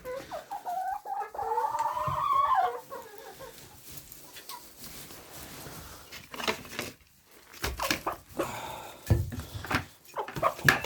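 Chickens clucking and pecking at feed scattered on the floor, with clucks loudest near the start and scattered scratching and pecking noises after, close by, with no talking.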